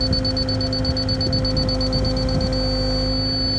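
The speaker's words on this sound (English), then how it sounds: "So when I come down, it's going to beep at me." An excavator's grade-control system beeps at the bottom of a trench, a steady high electronic tone pulsing rapidly and continuously over low diesel engine rumble, loud and close.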